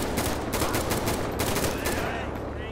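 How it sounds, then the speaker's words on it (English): Rapid overlapping gunfire crackles through a shootout in GTA V with the LSPDFR police mod, dense and continuous bursts like automatic fire filling the whole short stretch. "Still shooting."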